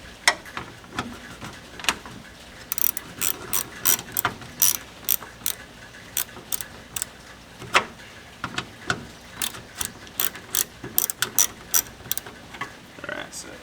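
A hand ratchet tightens a bolt on a BMW E30 hood latch. Bursts of sharp, rapid clicking come up close, with brief pauses between strokes.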